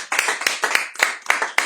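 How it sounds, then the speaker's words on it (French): Church congregation clapping in unison to acclaim a pastor, a close, steady rhythm of sharp claps about every quarter second over a short stretch. "je vous invite à acclamer le serviteur de Dieu, le pasteur Nancy Matanguila"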